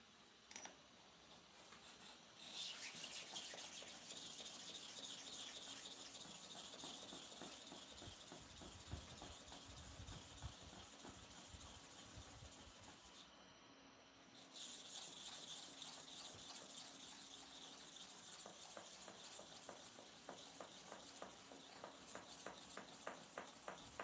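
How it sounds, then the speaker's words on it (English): A clipper blade is rubbed to and fro on a super-hard manual sharpening stone, giving a steady, close scraping and grinding hiss that runs almost without pause, with a brief lull midway and no talking. "Now, let us sharpen clipper blade on it."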